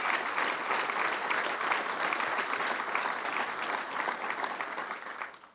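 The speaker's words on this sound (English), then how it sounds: "Let's give them a round of applause." A crowd at a governor's public address in Syracuse claps, a steady, even wash of applause at moderate distance that fades out at the close.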